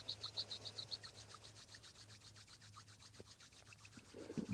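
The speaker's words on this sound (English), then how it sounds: "Rub your palms." Palms rubbing together in a quiet room during a morning breathing and meditation practice, a soft, close, continuous friction hiss with gentle rhythmic strokes and no speech.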